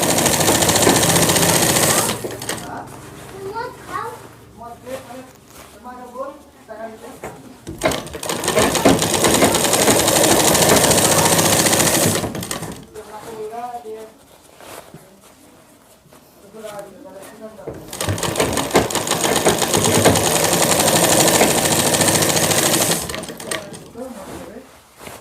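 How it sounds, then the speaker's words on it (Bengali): A sewing machine runs double stitching on a shirt in long, loud, steady bursts of rapid whirring, separated by quieter pauses where a voice talks. "তো আমি এটাকে ডবল সেলাই দিয়ে দেবো।"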